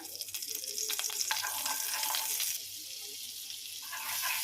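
A generous knob of butter melts into a little oil in a wok for butter garlic chicken, giving a steady close hiss and sizzle that shifts and softens partway through, with no talking.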